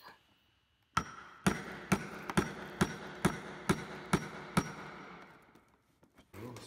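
A foam latex prosthetic mould being cracked open: about nine sharp, evenly spaced knocks close by, followed by a few softer bumps as the striking stops.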